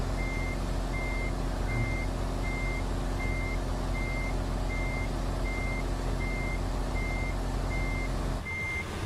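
A truck in a driving video game sounds steady, evenly spaced reversing beeps over a constant loud engine rumble, repeating about every half second for several seconds with no talking.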